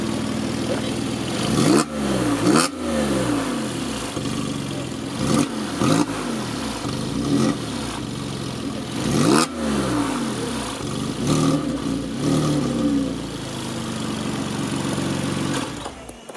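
A Porsche 911 (997) Carrera S engine revs repeatedly, sharp throttle blips rising and falling over a steady idle, close and loud, then settling back to idle.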